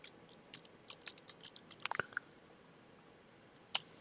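Computer keyboard typing during a network administration demonstration, a few scattered soft clicks and one short burst of keystrokes, quiet and close, with a lone later tap and no talking.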